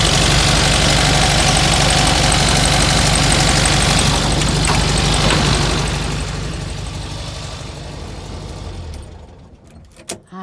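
A VW Beetle 1303 Super Beetle air-cooled engine idles after a cold start, loud and clattery at first, then fading over several seconds and stopping near the end, followed by a couple of brief knocks.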